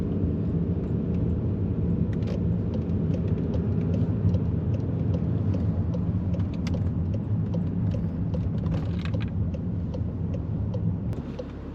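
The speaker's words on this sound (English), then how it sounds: "A lot of wheel spin. Still a lot of wheel spin." Volkswagen hatch with its diesel particulate filter removed, pulling away in sport mode with traction control on, wheels spinning; a steady low engine drone and rumble carries throughout, with faint tyre scrabble over the top.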